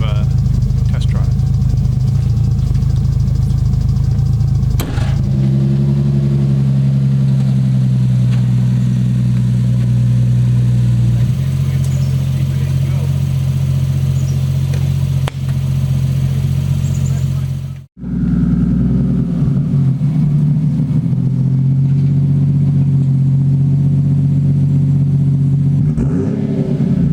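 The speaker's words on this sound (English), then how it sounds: "Before I actually finish the trunk, I'm going to indulge myself in a little bit of a test drive." A Nissan S13 car engine hums and revs through a test drive, a loud, steady mid-pitched drone with shifts in tone and one brief cut midway, and a voice talks over it at times.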